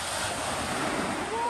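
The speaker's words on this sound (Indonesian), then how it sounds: "Oh, ombaknya besar banget ini." Big sea waves break in a continuous, washing roar of surf, mixed with gusting wind across the microphone.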